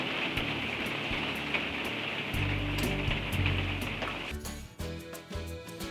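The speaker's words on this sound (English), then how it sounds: "The thunderstorm going over right now and rain." Rain falling during a passing thunderstorm, a dense steady hiss of drops on surfaces with low rumbling beneath, easing and breaking up into scattered patters toward the end.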